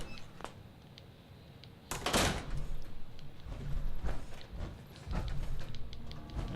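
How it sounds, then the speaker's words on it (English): A door in the video game Fallout 4 clunks and slides with a sudden loud mechanical burst, followed by softer scrapes and thuds over quiet background hum. "And the door won't open."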